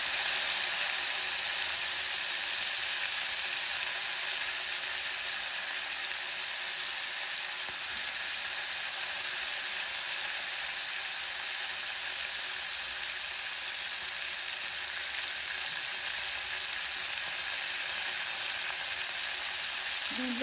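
Broad beans and green chillies frying in oil for khichdi, a steady close sizzle and hiss running unbroken with no talk.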